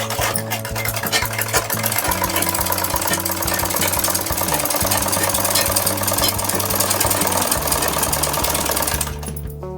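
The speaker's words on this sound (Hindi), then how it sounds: "इसी तरह से हमें पूरे में ही सिलाई को लगा लेना है" An electric sewing machine stitching salwar fabric hums and chatters loudly and continuously at close range, with its needle rhythm steady until it stops near the end.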